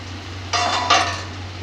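A lid is set on a cooking pot holding fish-head mixed vegetable curry, two quick metallic clanks close by over a steady low hum.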